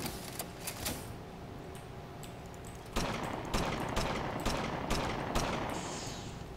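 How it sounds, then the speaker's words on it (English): Gunfire in an airship combat video game: rapid bursts of sharp shots crackle at low volume, growing denser and louder partway through as volleys repeat in an uneven rhythm, with no talking over them. "Yeah, Brandon, keep shooting them."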